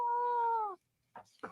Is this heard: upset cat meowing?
yes